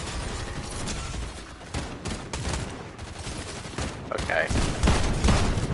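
Rapid bursts of assault rifle fire crackle through a busy video game scene, mixed with other weapon shots and mechanical clatter, fairly loud and continuous, with a voice briefly speaking over it.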